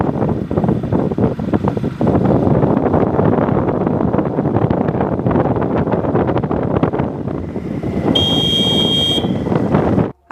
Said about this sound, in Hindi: काफ़ी तेज़ और बहुत तेज़ हवा चल रही थी